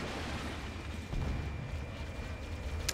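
A Banshee bomb goes off in Halo, landing as a sudden low, heavy burst about a second in and rumbling on beneath a continuous background din.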